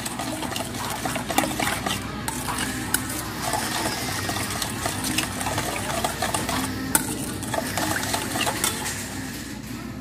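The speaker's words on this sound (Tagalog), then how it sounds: "Mix natin. Hanggang matunaw yung brown sugar." Pork chop marinade with calamansi and brown sugar being stirred steadily for ten seconds, a continuous wet swishing and scraping close by with faint clinks, no voices.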